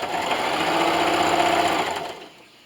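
A sewing machine runs steadily, stitching through a quilt as it is finished without binding, with a continuous even whir for about two seconds before winding down and stopping, no voices.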